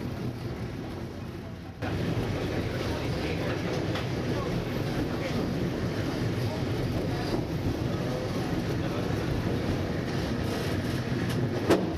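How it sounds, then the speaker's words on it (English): A train climbing toward White Pass in Alaska rumbles steadily in a dense, continuous roar of wheels and carriages, with wind noise, holding an even loudness throughout. "As the train climbs higher"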